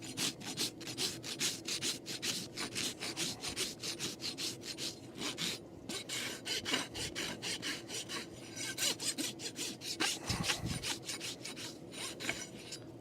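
A farrier's rasp working a horse's hoof, close and steady rhythmic back-and-forth strokes with a coarse grating sound.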